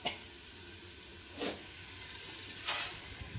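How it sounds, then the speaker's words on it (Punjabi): Green chillies sizzle in a pan with bitter gourd, potato and onion, giving a steady low hiss with a few brief louder crackles, close by and without talk. "ਮਿਰਚਾਂ ਤੜਕੀਆਂ ਨੇ ਹਰੀਆਂ ਨਾਲ ਕਰੇਲੇ ਤੇ ਆਲੂ ਪਿਆਜ਼ ਪਾ ਕੇ"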